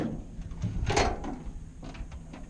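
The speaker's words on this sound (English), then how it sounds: "So this door has this little lock" A lock on a work van door being operated, with a few clunks and a sharp metallic rattle near the middle against a thin background hum.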